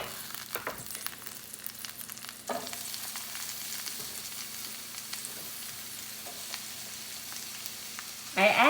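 Red onion, carrot and celery hit a pan of cooked-down mushrooms with a sharp jump into a steady sizzle, then fry quietly with occasional clicks. A louder burst comes near the end, close by and with no talking.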